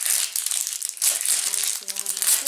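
Paper crinkles and tears close by as wrapping is pulled off in a short rustling burst, with a faint voice briefly in the background.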